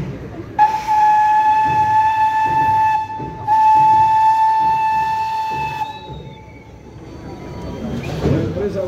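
A steam locomotive at a railway heritage event sounds its whistle in two long, loud, steady blasts with a short break between them, close by. A fainter, falling whistle note and rumbling noise follow.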